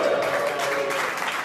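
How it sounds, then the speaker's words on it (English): Brief burst of crowd applause and cheering at a golf event with Sergio Garcia, a dense, steady wash of clapping lasting about a second and a half. "Are we going to get a cheer from the crowd?"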